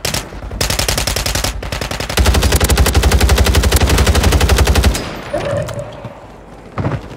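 Sustained automatic gunfire from Modern Warfare 3 Warzone Resurgence play, a rapid dense burst lasting a few seconds after scattered single shots, loud and close, ending in quieter background game noise.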